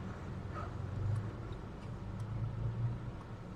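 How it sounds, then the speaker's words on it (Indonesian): Low, steady rumble of slow cars and engines idling in a traffic jam on Jalan Raya Sawangan in Depok, a continuous muffled drone with faint passing vehicle noise. "Macet seperti ini ya."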